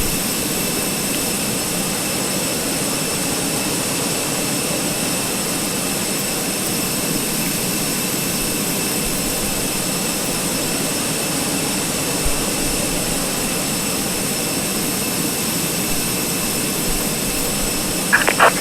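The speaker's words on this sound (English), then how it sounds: "We're about to get the engine started, so let's get these lovely little IAEs up and running." IAE jet engines starting up on an airliner in Microsoft Flight Simulator 2020, a steady, loud turbine whine and roar that holds without break throughout.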